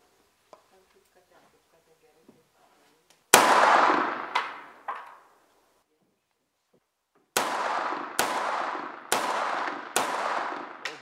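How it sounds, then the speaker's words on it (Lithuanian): Kalashnikov assault rifle fired at construction blocks, first a loud single shot and two echoing follow-ups, then after a pause four sharp evenly spaced shots, each ringing out into silence. "Laidos vedėjos rankose pats rimčiausias pasaulyje ginklas – Kalašnikovo automatas."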